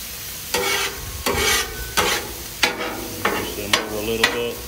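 Onions fry on a Blackstone flat-top griddle with a steady sizzle, broken by about seven sharp spatula scrapes and stirs at roughly even intervals, close and clear with no talking.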